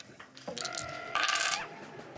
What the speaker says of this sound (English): you throw the shogi pieces like dice